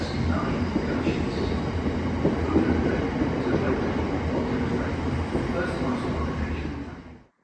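Simulated train from a rail video game, nine coaches, a steady loud rumbling run with faint clatter, continuous throughout and cutting off at the end.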